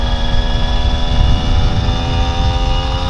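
A vintage 1971 Kawasaki G3SS 90cc motorcycle engine drones loud and steady up close while riding on country back roads, a continuous buzzing tone holding for a few seconds with no talk.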